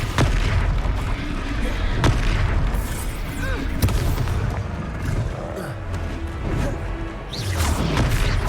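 Heavy booming slams of the Descendo spell in Hogwarts Legacy hit several times, loud and close, with crashing debris and rumble under occasional speech.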